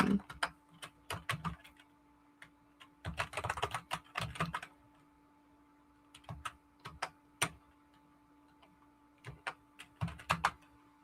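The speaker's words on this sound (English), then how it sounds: "I'm typing my email here" Quiet bursts of typing on a computer keyboard that keeps locking up, with irregular clusters of clicky keystrokes separated by pauses, close and alone with a steady faint hum underneath.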